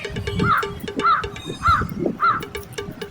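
A crow caws four times in a steady rhythm, each call a harsh rising-and-falling croak, clear and close over a soft patter of background noise.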